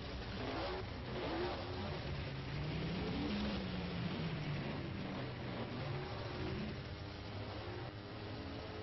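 A sprint car engine revs at Knoxville Raceway during a dirt series qualifying session, a steady loud roar with rising and falling pitch that carries through the whole stretch, while faint commentary talk sits underneath.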